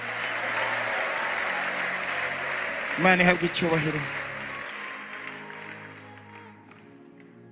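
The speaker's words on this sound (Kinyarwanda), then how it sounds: "Twongera Imana amashyi dukoreye igitangaza." A church congregation breaks into a short burst of clapping and cheering in praise, rising sharply and fading within about a second, with a preacher speaking before and after.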